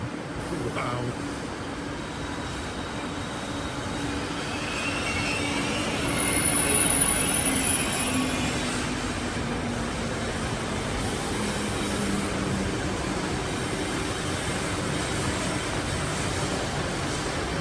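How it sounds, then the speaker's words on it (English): A long TGV Lyria high-speed train passes in a steady, loud rush of wheels and rail noise lasting throughout, with faint high squeals and a slight swell midway. "Kind of funny to think that such a long train will go over 200 miles an hour."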